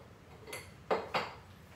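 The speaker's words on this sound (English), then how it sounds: "I'm going to move these bowls" Ceramic bowls shifted on a kitchen counter, giving a faint knock and then two louder, sharper clunks close together, with no talking.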